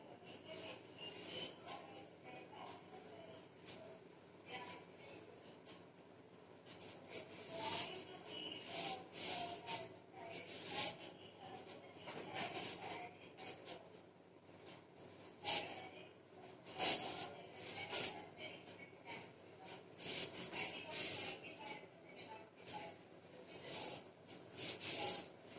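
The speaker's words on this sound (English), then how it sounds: "We will take the next step after rubbing the board" A classroom board is wiped clean with repeated faint rubbing and scrubbing strokes, soft and irregular at low level, with some light background noise.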